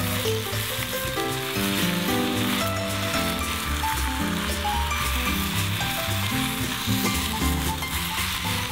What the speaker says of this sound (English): Caramelize the apple slices.